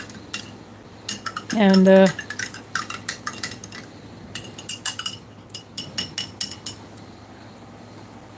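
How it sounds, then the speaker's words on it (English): A spoon stirring a ration meal in a metal pot, with repeated close clinks and scrapes in an irregular rhythm, one longer tonal ring early on, and a brief spoken word. "I'll give that another stir later on."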